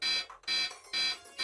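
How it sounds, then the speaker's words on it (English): Electronic alarm beeping in repeated high-pitched bursts, three loud pulses with short gaps, sounding alone and close. "In August 2017, alarms sounded at the most sensitive scientific devices ever constructed."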